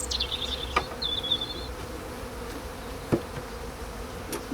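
Honeybees buzz around an opened hive during an early spring inspection, a low steady hum with occasional individual bees droning close past, plus a few faint clicks and knocks of handling.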